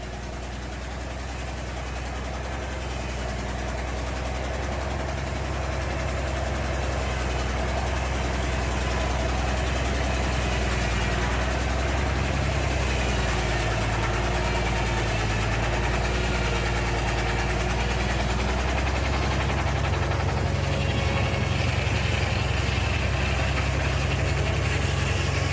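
A Frick sawmill's engine runs steadily while fence boards are cut, a loud, continuous low drone with vibration that holds close and even throughout, without talk.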